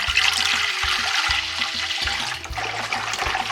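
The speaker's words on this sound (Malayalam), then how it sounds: "ഇതിനകത്തേക്ക് നമുക്കൊരു 1/2 കപ്പോളം വെള്ളം നമ്മൾ അതിനകത്തേക്ക് ചേർക്കുകയാണ്." About half a cup of water is poured into a bowl of flour and salt to make Kerala porotta dough. It gives a steady, close splashing and trickling sound that runs throughout, with faint low knocks, and no talking.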